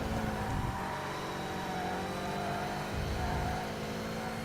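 Race car engine sound from the TOCA Race Driver 3 video game, from a British GT car in a GT Cup race: a continuous high engine drone that swells and eases while the car works through corners and a chicane.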